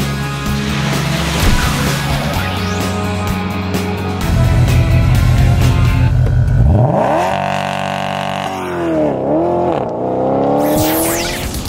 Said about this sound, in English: trying out the new all-wheel drive system on the Jaguar XJ and the XF